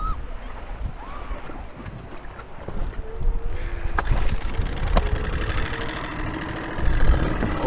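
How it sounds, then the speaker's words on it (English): An outboard motor starts up and runs on a deflated Honwave inflatable boat, its engine drone building out of wind and lapping water, with a rougher, louder surge near the end. "I'll get the outboard started and we'll see."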